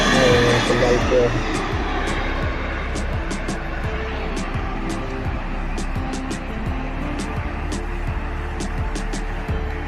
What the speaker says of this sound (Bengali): এখন আরেকটা আসতেছে প্লেন ওই দিক থেকে